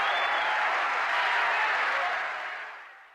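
A crowd in the video game Cosmic Fantasy 3 cheers and applauds in a loud, dense roar that holds steady and then fades away toward the end.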